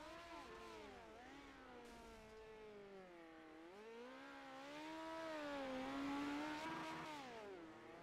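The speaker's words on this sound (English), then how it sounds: "Excuse the big truck in the background." A big truck engine rumbles faintly in the background at a midget car race event at the Chili Bowl, its pitch rising and falling as it revs and idles.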